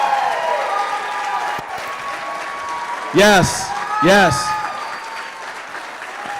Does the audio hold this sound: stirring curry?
no